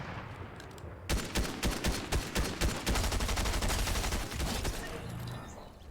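Rapid gunfire bursts in the battle royale game Fortnite, a loud, dense string of close shots for several seconds that thins out into fainter trailing noise.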